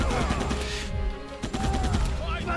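Gunfire bursts from the Rambo video game, rapid dense shots in a sustained barrage with a brief lull midway, loud and close, mixed with game effects.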